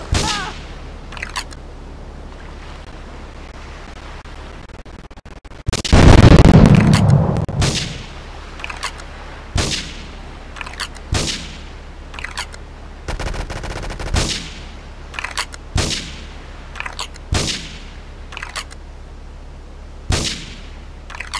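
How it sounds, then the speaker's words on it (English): Gunfire and explosions in Grand Theft Auto III: sharp isolated shots crack every second or two, with one heavy blast rumbling near the start and a short burst of rapid fire midway. "investigate reports of gunfire and explosions"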